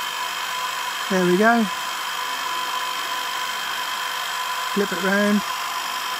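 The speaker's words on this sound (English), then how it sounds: "get my trusty Bosch heat gun" A Bosch heat gun runs with a steady, close whooshing hum while it shrinks a new sleeve onto an 18650 lithium-ion cell salvaged from a used laptop battery. Someone speaks briefly twice over the constant blow.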